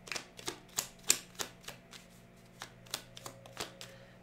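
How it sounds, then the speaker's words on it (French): Oracle cards are shuffled and drawn in a run of crisp, close flicks and taps, about a dozen irregular snaps over a quiet background. "je vais vous tirer une petite carte"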